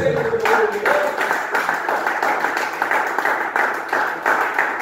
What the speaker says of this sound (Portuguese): E as palmas são possíveis.